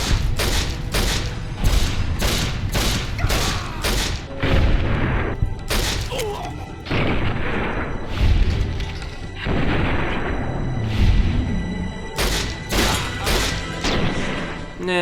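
Gauss rifle fire in the Fallout: New Vegas game, with loud repeated booming shots in quick bursts, some rapid volleys and heavier blasts close up, packed densely through the whole stretch.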